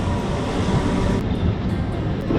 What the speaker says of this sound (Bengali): চলে এসছে আমাদের ট্রেন